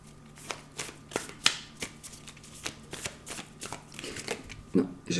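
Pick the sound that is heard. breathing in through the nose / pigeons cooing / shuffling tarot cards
shuffling tarot cards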